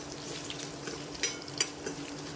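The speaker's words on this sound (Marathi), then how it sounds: "हा जो आपण हिंग याचा तडका देतो" Mustard dal and asafoetida tempering in hot oil for an amla and raw mango chutney: a steady close sizzle with a few light clinks of a spoon against the pan.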